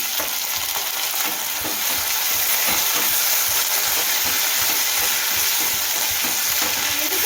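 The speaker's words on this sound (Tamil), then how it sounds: "நம்ம தக்காளியும் போட்டு கொஞ்சம் வதக்கிக்கணும்." Ginger and tomatoes sautéing in a pan, a dense, loud, continuous hiss of frying with faint rhythmic stirring underneath, very close and steady throughout, no voices.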